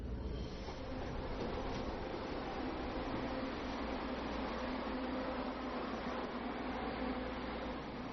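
A packed passenger train runs on the line to Shifun in Taiwan, a steady muffled interior rumble and hum that holds even throughout, with no voices.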